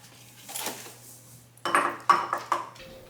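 An egg for an egg wash whisked in a bowl for banana logs: a soft first stroke, then three sharp, close clicking scrapes of utensil against dish, with no talking.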